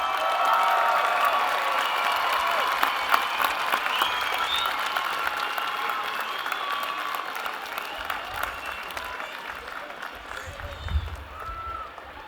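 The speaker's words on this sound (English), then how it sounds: "give them a round of applause" An audience at a business school commencement applauds graduates' families, a dense, sustained wash of clapping with scattered cheers that swells early and gradually tapers off over about twelve seconds.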